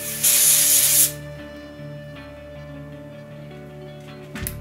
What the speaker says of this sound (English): Spray your fringe in place.